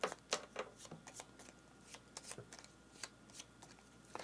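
Playing cards for a board game are riffled and shuffled in a quiet room, making a string of quick, crisp papery flicks and snaps of uneven rhythm, close to the microphone, with no voices.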